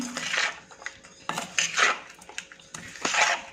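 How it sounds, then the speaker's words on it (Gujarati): Green turmeric pickle being stirred with lemon juice in a pot: close metallic clinks and scraping of a spoon against the vessel in three short bursts, with wet mixing noise and no talking. "મસાલા એકદમ પ્રોપર આપણા અથાણામાં મિક્સ થઈ જાય એ રીતે આપણે થોડી વાર માટે આને હલાવીશું"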